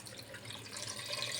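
Water poured into a pot of cut potatoes for mutton biryani, a steady close splashing rush that builds slightly louder over a brief moment, with no talking.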